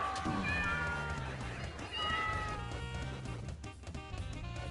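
Cats meow in the Deltarune video game, several short bright mewing calls under dense game music and effects, with a player talking over them.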